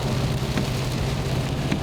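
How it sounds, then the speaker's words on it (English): Steady rain pouring down at Tejon Ranch, a dense continuous hiss with a low rumble underneath, no voices. "the rain is coming down today"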